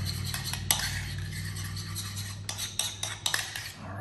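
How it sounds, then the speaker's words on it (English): A metal spoon stirs and clinks against a bowl while mixing jalapeno with Tony's seasoning, a close series of scrapes and taps, quiet and irregular, no voices. "Mix it all up."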